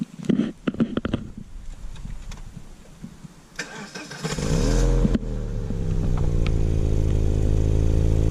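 A few clicks and clunks, then a BMW E46 Compact's engine cranks and catches, settling into a steady, rumbling idle that stays loud to the end.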